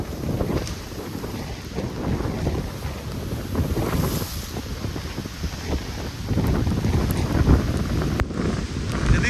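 Cyclone Remal's storm winds batter the microphone as waves surge and throw water up along the coast, a loud continuous roar of gusting wind and crashing surf with no voices.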